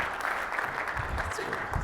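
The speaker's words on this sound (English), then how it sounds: "Big round of applause." Audience applause for a female startup founder and CEO at a tech startup competition, a brief continuous patter of clapping with a voice talking over it.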